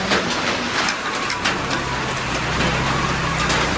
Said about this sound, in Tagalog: Kasi na umuulan dito.